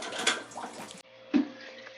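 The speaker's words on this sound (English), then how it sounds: "strain it and squeeze all the water out of the cooked spinach" Cooked spinach is squeezed by hand over a kitchen sink, and water splashes and drips out in a brief wet gush, followed by a second squeeze.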